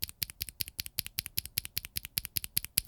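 Anubis tactile keyboard switches clatter under brisk typing, a regular run of crisp, nearby keystrokes with slightly deeper thocks mixed in.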